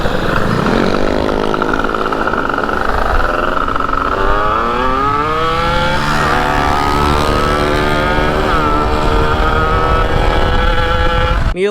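A 230cc Mio four-valve motorcycle engine runs steadily and loudly throughout, its pitch rising and falling as the throttle is worked, with no voices.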